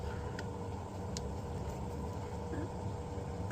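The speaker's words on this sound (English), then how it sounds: "that's just a bilge pump" A boat's bilge pump runs steadily in the background, a continuous low mechanical hum and whir with a constant level throughout and no talking.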